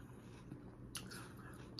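Close, wet crunching as someone bites into a shrimp salad, with soft chewing squishes between two or three crisp bites near the end.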